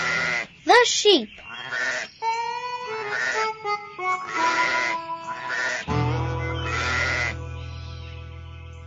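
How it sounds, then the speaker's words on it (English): Sheep bleating on a farm, several wavering bleats in a row, close and loud, with a low steady rumble entering near the end. "The sheep."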